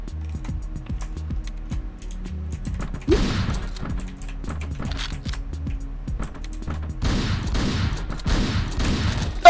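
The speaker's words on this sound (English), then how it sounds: "if you hit them with the full spread of the shotgun, they will die." Shotgun fire in the video game Hotline Miami comes as rapid, repeated low thumps in a fast rhythm, with heavier bursts of blasts breaking in, loud and continuous over an electronic game soundtrack.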